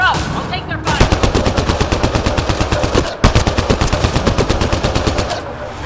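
Rapid automatic gunfire in the Mass Effect Andromeda shooter, two loud close bursts of evenly spaced shots separated by a brief pause.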